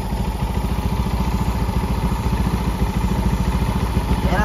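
A Mio motorcycle engine runs after a four-groove piston conversion, a steady close idle with a fast even pulsing putter and a faint mechanical clatter.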